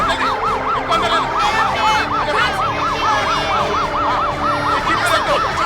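An ambulance siren wails continuously in a fast, regular rising-and-falling pattern, loud and close, with road noise and bustle underneath.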